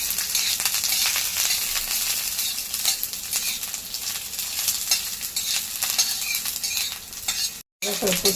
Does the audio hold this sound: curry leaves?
yes